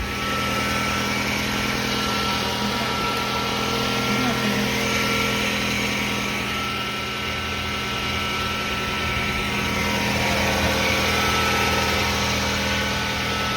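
The engine of a 2011 Toyota RAV4 with a brand new starter runs at a steady idle, a constant close hum and buzz with a faint whine, with a person speaking over it at times.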